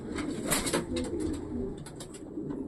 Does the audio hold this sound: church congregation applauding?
no